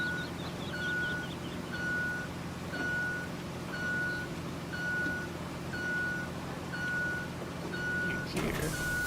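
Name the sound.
dump truck reversing beeps in video game RoadCraft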